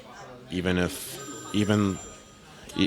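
A mobile phone ringtone goes off during a podcast interview, sounding close and clear in three separate tonal bursts about a second apart.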